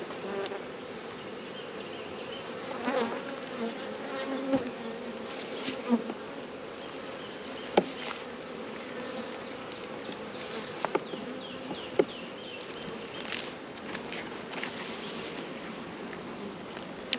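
Honey bees swarm with a dense, steady drone while a hive is opened for a deep inspection after winter, and sharp clicks and knocks of frames and tools break through the humming.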